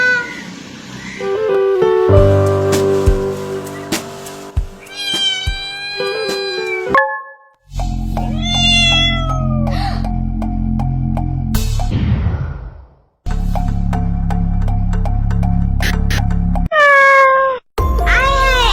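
Cartoon cats meow loudly and repeatedly in drawn-out, bending calls, with other animated sound effects between them and brief silent gaps.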